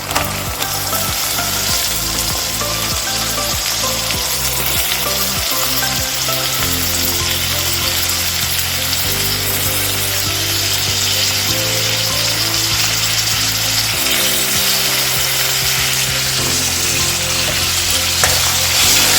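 Tomatoes frying and being stirred in a pan for a Maharashtrian matki potato curry, a loud continuous sizzle with rhythmic scraping strokes of the spoon, close up and without speech.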